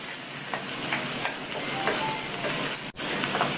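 A quarter kilo of cut radish sautés in hot oil with garlic, giving a steady, close hiss. Light stirring taps sound a few times, and the sizzle drops out for a moment near the end before coming back.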